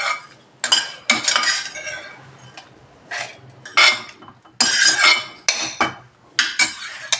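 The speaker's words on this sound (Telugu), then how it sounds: "నేను మిక్సీ జార్లోకి తీసేసుకుంటున్నాను." Roasted dried red chillies, coriander seeds and lentils are scraped from a pan into a mixer jar for coconut chutney, giving a run of close metallic clinks and scrapes in uneven bursts, with no talk.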